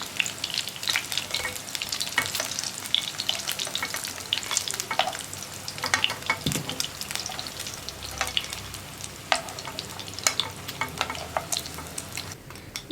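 Paneer cubes fry in hot oil for a Chilli Paneer dish, with a loud, continuous close sizzle broken by crackles and occasional stirring scrapes, and no voices.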